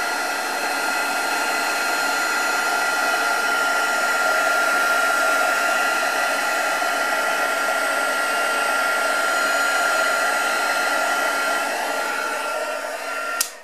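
A heat embossing tool melting embossing powder for a marbled ice craft: a loud, constant blowing whir up close, unbroken throughout before cutting off at the end.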